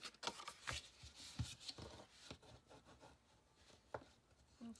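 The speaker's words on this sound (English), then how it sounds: "We're going to burnish those ends in against the spine" Folded paper ends of a vintage ancestry album are burnished against the spine, faint scattered rubbing and scraping strokes with soft taps, quiet and close.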